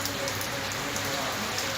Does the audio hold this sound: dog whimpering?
no